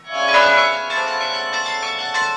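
Carillon bells ring out in Hondschoote, a dense overlapping peal of several bell tones with fresh strikes every half second or so, loud and sustained with long ringing decay and no voices.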